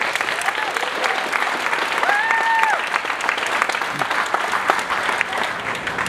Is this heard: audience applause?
yes